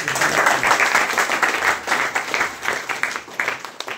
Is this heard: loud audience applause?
yes